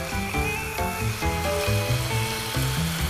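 Chicken sizzles in a hot pan over high heat, a loud, steady crackle and hiss that carries on unbroken, with a faint tonal hum running beneath it.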